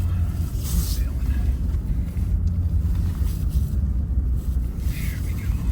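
A truck engine drives through snow, a continuous low rumble with wind noise and slight surges in loudness, heard from inside at close range.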